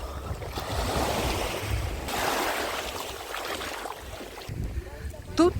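Black Sea waves wash and break steadily on an Odesa beach, between Arkadia and Lanzheron, with some wind buffeting the microphone, while a voice speaks faintly over the surf.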